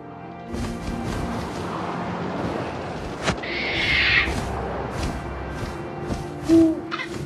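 An owl hoots in the What Remains of Edith Finch game, set among wind and outdoor ambience, with a brief hoot rising out of the steady background roar.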